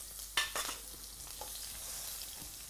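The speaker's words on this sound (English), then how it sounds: "in our pan with oil, put in some onions" Onions frying in oil in a pan, a steady soft sizzle with a couple of louder stirring scrapes near the start and faint clinks later, no voices.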